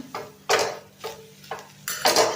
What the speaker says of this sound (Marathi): सारखं हलवत राहायचं।